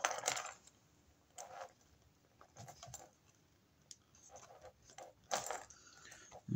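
A craft knife scoring through thick, tough cardboard in short, scratchy strokes, several quiet cuts with brief pauses between, close and faint with no talking.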